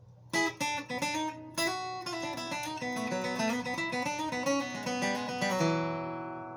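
A clean guitar lick of plucked single notes, starting with a few sharp attacks and then flowing into a quicker melodic run that rings out at the end.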